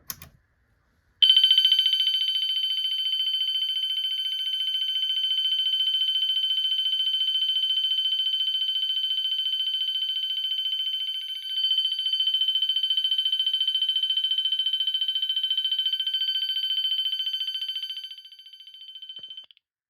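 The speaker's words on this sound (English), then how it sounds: "Next we have bell." Bell tone from an Eaton Wheelock ELMTSC horn strobe fire alarm: after a brief click, a loud, continuous electronic ringing buzz holds steadily for about seventeen seconds, with one momentary dip, then cuts off.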